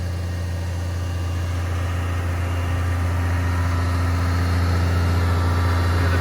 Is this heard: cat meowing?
no